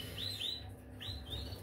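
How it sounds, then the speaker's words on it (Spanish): Faint high chirps from a clutch of young pet birds, three or four short rising tweets spaced across a quiet room background. "aquí tengo otra nidada de pájaros muy interesante"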